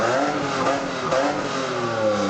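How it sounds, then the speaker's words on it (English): Toyota Supra mk3 engine fitted with a test pipe exhaust, revving in a steady, loud, raspy drone with rising and falling harmonics and no talking. "I then put a test pipe on it, so it made a little bit of noise,"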